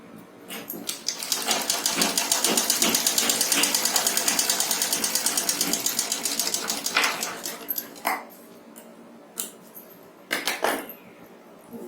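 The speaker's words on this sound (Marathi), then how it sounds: "या पद्धतीने अशी इथे एक शिलाई मारून घेणे." Sewing machine stitching fabric for a one-year-old girl's nauvari saree, running in a loud, fast continuous burst for several seconds, then slowing into shorter stop-start runs with brief mechanical clicks.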